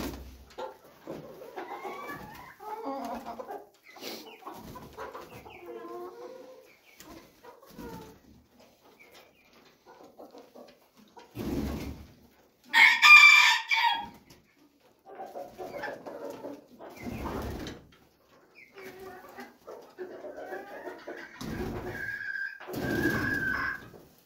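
Young roosters in a coop give soft clucks and intermittent, cracking crow attempts, mostly faint and scattered, with a couple of louder calls standing out.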